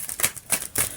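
Three quick papery flicks of tarot cards being drawn from a deck, evenly spaced and close, with faint hiss between them.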